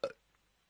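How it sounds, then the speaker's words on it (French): A single short, loud burp at the start of a prank phone call, followed by near silence with faint line noise. "Il a fait un rot. Voilà, j'ai entendu."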